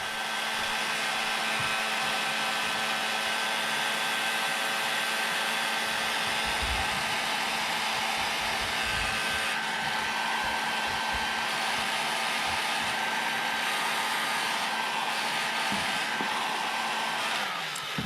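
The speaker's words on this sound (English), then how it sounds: "One of the tools that's pretty handy that I didn't have laying down in there is the heat gun." A heat gun blows hot air onto shrink wrap tubing (3/8 inch) during bus wiring work. It makes a loud, steady whooshing roar with a motor whine that runs unbroken the whole time, with no talking.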